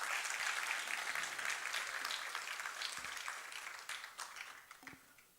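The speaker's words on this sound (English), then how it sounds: "एक बार जोरदार तालियां हो जाए" Audience applause at an annual architecture convention, a dense wash of clapping from a large crowd that starts full and gradually thins and fades out over a few seconds.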